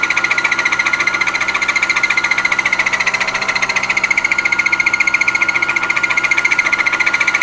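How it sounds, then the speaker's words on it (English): Side milling on a metal workpiece, hand fed, with the cutter chattering in a fast, steady, loud stutter that runs the whole time over a constant mechanical whine. "I think I might try side milling just to see what it'll do."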